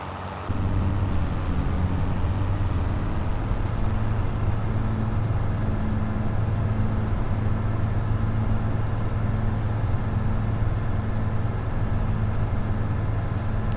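A UPS delivery truck in the Farming Simulator 25 video game drives by, giving a steady, fairly loud mid-pitched engine drone that holds evenly from start to finish with no talking.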